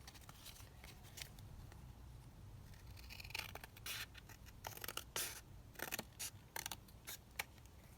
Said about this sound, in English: Just cut down another one.